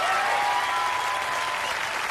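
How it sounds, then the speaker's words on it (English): An audience breaks into dense, sustained applause, loud and continuous throughout, with a faint tonal note drifting underneath. "let's give him a round of applause"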